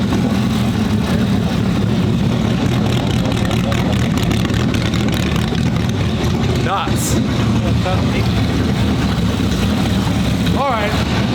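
A supercharged Lamborghini engine rumbles loudly nearby, a dense, heavy low drone with a couple of brief throttle blips and short exclamations from people talking over it.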